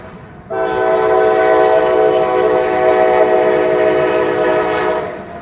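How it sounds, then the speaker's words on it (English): A train horn blares loud and steady for about five seconds as the train passes close by, its rich chord holding at a constant pitch before easing off at the end. "There's a train."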